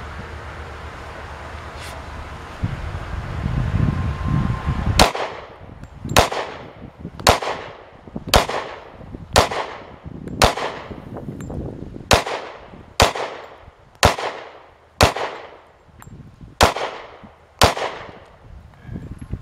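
A Glock 27 pistol firing .40 Smith & Wesson rounds, a run of about a dozen loud, sharp gunshots at a slightly uneven pace, each with a short ringing decay.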